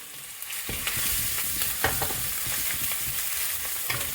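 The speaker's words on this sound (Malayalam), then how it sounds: "പെരുജീരകം മൂക്കുമ്പോൾ തന്നെ നമുക്ക് ചതച്ച് വെച്ച വെളുത്തുള്ളി ഇഞ്ചി ഇടാം" Crushed garlic and ginger sizzling in hot oil with fennel seeds, a steady close frying hiss broken by repeated scraping stirs of a utensil in the pan, with no voices.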